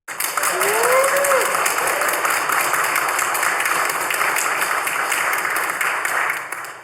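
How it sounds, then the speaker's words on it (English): An audience gives a warm, steady round of applause to welcome guest Simon Thoumire, Scots Trad Music Awards boss, at a chat event. The clapping is dense and sustained for about seven seconds, with some voices mixed in. "So please, a warm round of applause for Simon Thoumire."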